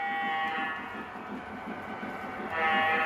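A Lionel B&O Columbian model train runs with a rhythmic clicking rumble of wheels and a sustained tonal whine, growing louder near the end as it passes close by.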